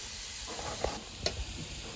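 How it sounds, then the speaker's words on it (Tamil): Masala sautéing in a pan over a wood-fired stove, a soft continuous sizzle with a couple of light stirring knocks. "நல்லா நல்ல ஒரு ப்ரௌன் ஷேப் வர வரைக்கும் நல்லா வதக்கணும்."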